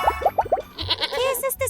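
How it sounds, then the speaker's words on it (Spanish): A goat bleats in a quick series of short, wavering cries, loud and close, in a children's animal-sound guessing song. "Es una cabra."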